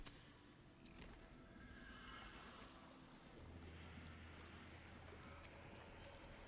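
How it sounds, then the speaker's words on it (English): A horse or stag call in a video game: a distant, drawn-out animal cry rises over a steady background of game ambience and rumble, with no talking. "Anybody else hear the horse or elk? I don't know what that is. Sounds like the stag."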